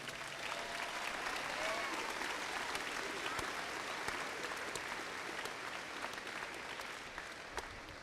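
A commencement crowd in the stands applauds elementary and middle school teachers at a 2017 class graduation, a steady, dense wash of clapping that holds evenly throughout with no break.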